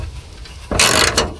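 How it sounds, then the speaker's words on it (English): A wrench ratchets briefly during a hood strut install on a hybrid Toyota 4Runner: a quiet pause, then a short close clatter of two quick clicking bursts. "gotta get my wrench"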